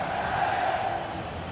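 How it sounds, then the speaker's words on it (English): Steady roar of a stadium crowd in a football video game, a dense, continuous wash of cheering voices at moderate loudness with no distinct pauses. "Well, just listen to this crowd."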